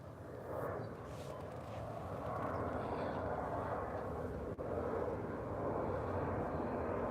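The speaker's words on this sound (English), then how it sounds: "We got another plane coming in." A plane comes in overhead on a bright, breezy day, a broad steady engine roar that swells slightly and holds, heard at a distance with no clear talking.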